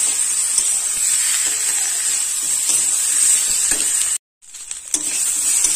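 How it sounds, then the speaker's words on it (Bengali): Boiled potatoes are stirred and sautéed with spices in a pan, giving a steady close hiss and sizzle with faint scraping, broken by a brief silent gap near the end before the frying noise resumes. "মশলার সাথে আলু ভালোভাবে নাড়াচাড়া করে তিন থেকে চার মিনিট ধরে কষাই করে নেব"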